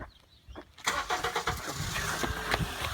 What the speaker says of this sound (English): You start the car, get the car running, just in case he gets angry.